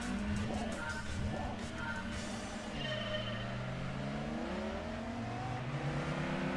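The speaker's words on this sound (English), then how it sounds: "Free revving, that was one of the worst sounds I've ever heard." A Nazca race car engine in the video game Gran Turismo 2 revs freely, its droning tone sweeping up and down in repeated swells, loud and continuous throughout.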